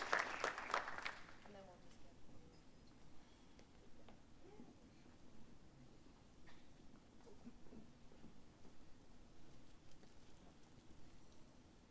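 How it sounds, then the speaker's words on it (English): An audience at a farewell ceremony for departing exchange students claps in a brief burst at the start that quickly fades to a faint, scattered patter over quiet room tone. "let's give a final round of applause for our departing exchange students"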